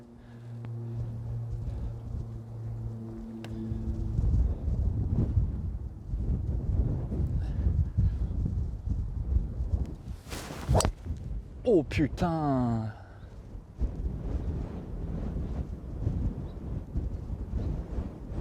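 Strong wind buffets the microphone on a golf course, a steady low rumble running throughout, with a sharp whoosh of a swing and ball strike around the middle followed by a short exclamation.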